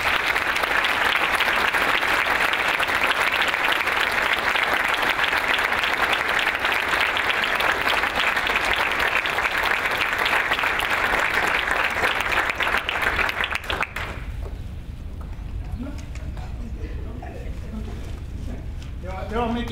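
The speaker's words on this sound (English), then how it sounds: "please give them a round of applause for me" Audience applause at a military retirement ceremony, loud and sustained for about fourteen seconds before stopping abruptly, followed by quieter room noise with faint voices.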